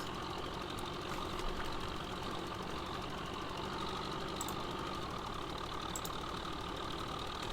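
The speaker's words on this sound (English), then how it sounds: "It doesn't sound like a tractor I've ever heard." A tractor engine in a farming video game idles continuously, steady and low, with a rough, knocking rumble and no change in pitch throughout.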